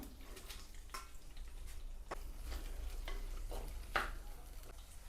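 Onions and chillies frying in oil inside a clay pot, stirred now and then, giving a soft steady sizzle with scattered scraping clicks, fairly quiet and close, with no talking.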